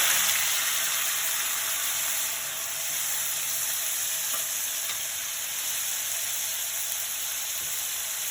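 Stuffed pointed gourd frying in a pan with cumin sizzles in a steady, loud hiss that holds throughout with slight variation and no voices.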